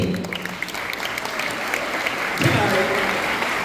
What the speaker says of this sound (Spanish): Un aplauso para ustedes por existir.